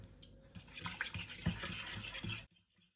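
A spoon stirs miso sauce with honey and sugar in a small bowl, making quick rhythmic scraping and light clinking for about two seconds before stopping into near silence.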